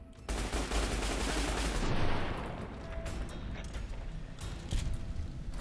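Gunfire from the video game Fallout New Vegas, heard as a loud, continuous burst of shots followed by scattered, irregular reports over a steady rumbling background, with no talking.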